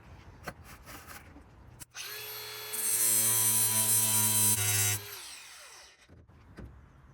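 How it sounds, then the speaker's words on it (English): Power grinder cutting away a rusted, countersunk screw in a recessed hole during a restoration job, a steady loud whine lasting about three seconds that rises and then spins down, set between quieter bumps and handling noises. "I couldn't get this last one off because it was rusty, so I'll just grind that off"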